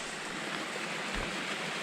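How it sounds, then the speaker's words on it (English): Rushing water at the Great Gully waterfall on a mountain trail, heard as a steady, broad, hissing roar with no breaks and no voices. "this is the Great Gully waterfall"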